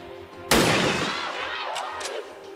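A sniper rifle shot in XCOM 2 cracks out sharply and loud, then its echo rolls away over about two seconds with faint game sounds behind it.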